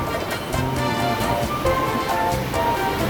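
Water sloshes back and forth in a cruise ship deck pool, a loud churning wash with splashy surges and faint tonal hum behind it, continuous and close.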